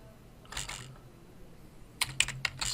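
Someone types a name on a computer keyboard: a quick burst of key clicks, a pause, then a faster cluster of crisp taps close to the mic.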